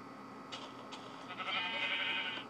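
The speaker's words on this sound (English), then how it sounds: "for some reason, there's a sheep up here" A sheep in a video game bleats in a short wavering cry, fairly quiet over a steady background hum.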